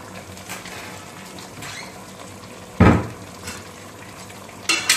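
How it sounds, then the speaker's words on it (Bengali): Chicken cooked with panch phoron is stirred in a pan, with a soft sizzle underneath and a few sharp scrapes and clinks of a spoon against the metal, the loudest near the middle and the end. "এবার ভালো করে মিশিয়ে নিচ্ছি"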